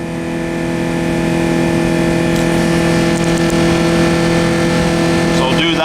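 A car engine revs steadily in park to its limited high speed, holding a loud, sustained buzzing drone with strong harmonic tones and little change for several seconds.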